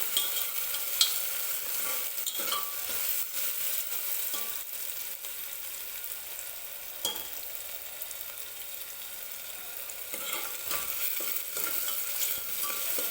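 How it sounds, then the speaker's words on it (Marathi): Chopped tomato frying in oil for a fresh green chickpea curry, a continuous close sizzle with frequent spoon scrapes and stirring knocks against the pan, no voices. "तर टोमॅटो व्यवस्थित सॉफ्ट होईपर्यंत आपल्याला तेलामध्येच परतून घ्यायचा आहे."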